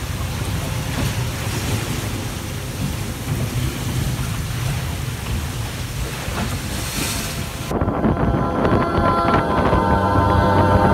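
Strong wind of 35 knots roars and buffets the microphone aboard a sailboat at night between the Canary Islands, over rushing water, growing louder and harsher toward the end.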